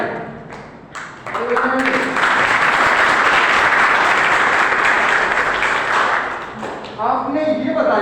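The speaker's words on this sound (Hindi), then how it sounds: "ये तालियां।" A classroom audience breaks into a burst of clapping that swells after a brief spoken prompt, holds steady and dense for about five seconds, then fades as a voice resumes.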